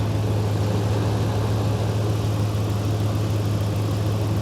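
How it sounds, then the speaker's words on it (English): A Corvette engine runs at idle, a constant deep hum with a strong steady low tone, close and unchanging, with no voices over it. "as well as the engine is running"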